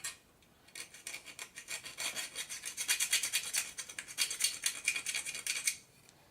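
Hand filing and rubbing on a Lincoln MK 1 model part, a close, steady rasping scrape in quick repeated strokes lasting several seconds, with no talking.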